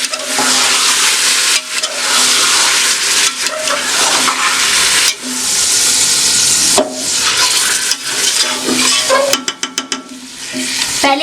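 Marinated beef frying in a pressure cooker for degi korma, a loud and steady sizzle and hiss, close up, interrupted by scraping stirs, with no talk.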